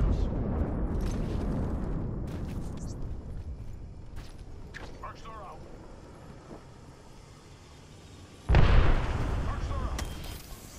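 A loud grenade blast bursts out near the end of a shooter video game firefight, following a long stretch of rumbling low gunfire and battle noise, with faint voices underneath.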